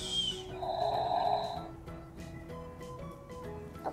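A Disney princess toy doll's mechanical snoring sound, a single drawn-out snore with a tonal whine, followed by quieter toy chimes and rattling.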